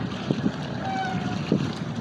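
Cool sea wind blows steadily across the microphone on the shore at Bato, Leyte, where people are fishing. It makes a broad, rumbling rush with faint water and boat noise beneath, and a few brief knocks.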